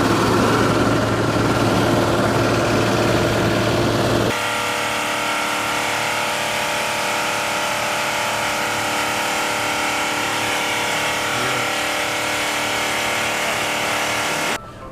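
A runaway diesel engine roars at a steady high pitch, loud and close. The tone shifts partway through, then it keeps droning without letup until it cuts off abruptly at the very end.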